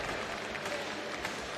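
Brief, faint crowd applause for a competitor at a pro timbersports championship, a soft steady wash of clapping heard from a distance.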